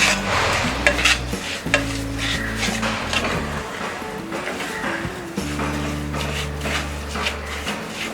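A spoon continuously stirs and scrapes a chocolate barfi mixture of cocoa powder and melting sugar in a pan over medium flame, soft sizzling underneath, up close and steady, with background music playing throughout.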